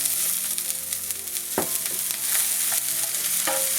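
Chili and onion fry in hot oil in a pan over medium-high heat, a continuous sizzle broken by a few sharp stirring scrapes, close and alone.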